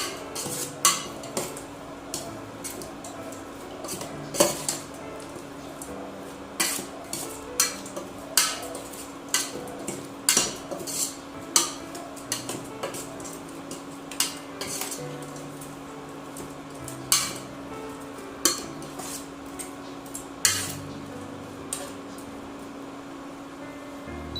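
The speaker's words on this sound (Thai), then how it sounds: "แล้วก็เปิดเตานะฮะครับคนให้เข้ากันครับ" Utensil scrapes and clinks against a pot as a Thai Isan catfish dish cooks on the stove, irregular knocks and scrapes repeating over a steady low hum.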